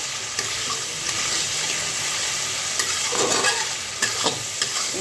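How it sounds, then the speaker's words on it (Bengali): A masala paste fried and stirred in a pan for doi pabda fish curry, a close, steady sizzle broken by repeated scraping strokes of the spatula, with no voices. "ভালো করে মশলা কষবে।"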